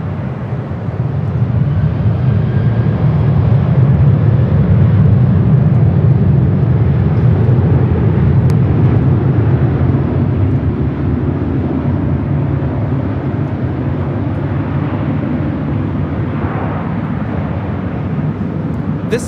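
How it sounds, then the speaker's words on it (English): A United Airlines Boeing 737-900ER arriving from San Francisco at LAX sends out a broad, steady roar of jet noise at a moderate distance that holds for the whole stretch with no one talking. "This is United Airlines ET96 coming in from San Francisco on the 737-900ER."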